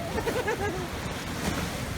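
Waves wash in and break against a rocky shore at Bangol Crags in Agno, Pangasinan, with a rushing, churning roar. Wind buffets the microphone and faint voices sit under the surf.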